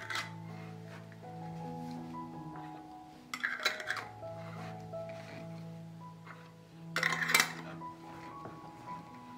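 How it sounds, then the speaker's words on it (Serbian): Glass canning jars clink and new lids clatter in two short bursts as the jars are closed, with a low hum underneath. "I zatvorit ću ih sa čistim i novim poklopcem"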